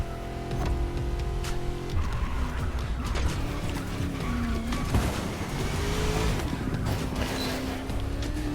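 A Mazda RX-7 in the racing game The Crew Motorfest swings through corners, its engine droning loudly and steadily with tyre squeal and skidding layered over it throughout.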